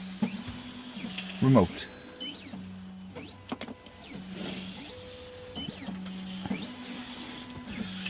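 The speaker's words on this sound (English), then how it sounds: "whilst the machine cuts the blade" Key cutting machine cutting a key blade for a 2014 Ford Transit Custom, a steady mechanical hum with repeated whirring pulses and stepping motor tones, close by, with brief speech.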